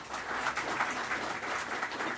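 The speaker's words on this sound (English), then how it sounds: "We welcome Shri Javli with a warm welcome and a warm round of applause." An audience at a lecture on the Cauvery water dispute applauds to welcome Shri Javli, a soft, continuous wash of clapping heard from some distance with no voices over it.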